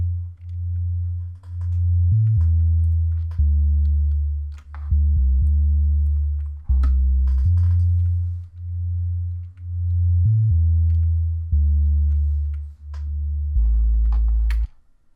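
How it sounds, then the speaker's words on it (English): 808-style bass synth made from slightly detuned sine and triangle waves in FL Studio, a run of deep, round sustained notes shifting pitch every second or so with short gaps between them, clean and alone. "It's like an 808 style bass."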